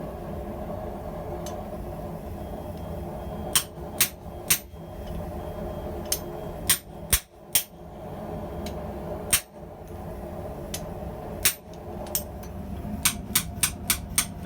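Steel being hammered on a blacksmith's anvil at the square hardy hole while forging a pair of tongs: sharp metallic strikes come singly and in short clusters, ending in a quick run of blows, over a steady background hum of the forge shop.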